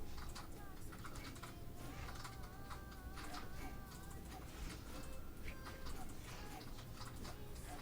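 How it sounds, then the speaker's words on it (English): Computer keyboard keys clacking steadily and rapidly during a Brawlhalla gaming session, a dense stream of close clicks running throughout over faint game sound. "That's a lot of clacking on those keys."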